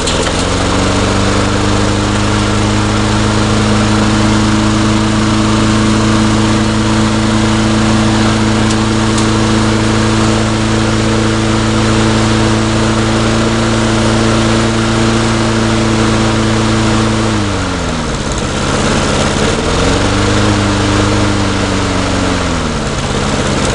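An old, neglected lawn mower engine runs steadily and loudly at close range with a constant droning hum, then dips and recovers in speed near the end; a loose air vane is reported on it.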